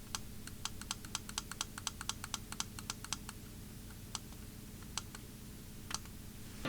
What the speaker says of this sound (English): tapping the buttons and hitting the plastic, the plastic itself just feels kind of shiny and cheap, and then, you know, touching the buttons, the click just doesn't sound very good